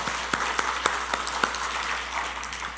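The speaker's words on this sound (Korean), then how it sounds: "우리 하나님께 영광의 박수 한번 올려드립니다" A church congregation at a Sunday worship service claps together, a burst of applause with several sharp, distinct hand claps standing out over the dense clapping.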